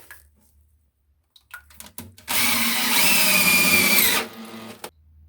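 A power drill drives roofing screws into concrete in a bunker sump: a few short taps and clicks, then one loud, continuous whirring burst of about two seconds that stops abruptly, followed by a brief knock.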